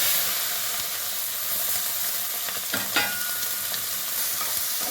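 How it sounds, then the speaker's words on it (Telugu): Mutton pieces fry in hot oil with turmeric and salt, giving a steady, close sizzle and hiss throughout, with a couple of sharper stirring scrapes near the middle. "ఉప్పుకొని పసుపు వేసుకొని ఆయిల్లో ఫ్రై చేసుకోవాలి."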